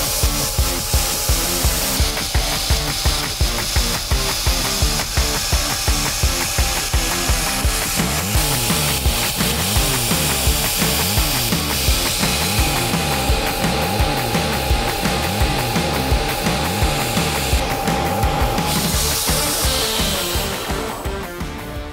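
A belt grinder hollow grinds a knife blade for a compound grind, producing a loud, steady abrasive rasp with a rapid rhythmic pulsing throughout, with no talking.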